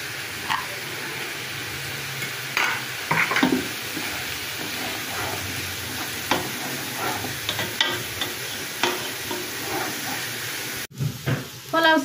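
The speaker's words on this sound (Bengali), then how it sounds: "এখন রসুন কুচি দিতেছি আর ক্যাপসিকাম, লঙ্কা মরিচগুলো কেটে দিলাম।" Chopped garlic, capsicum and chilies frying in oil in a pan for vegetable egg fried rice: continuous sizzle and hiss with stirring scrapes and clatters, ending in a sharp break, with a voice talking over it.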